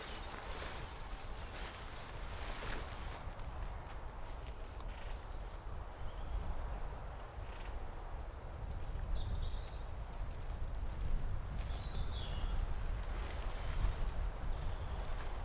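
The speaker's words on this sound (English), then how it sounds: "Now, of course the wind picked up." Gusty wind blows outdoors at a camping spot where a forester's tent is being pitched, a continuous low rumbling buffet across the microphone that swells and eases, with faint distant chirps and no talking.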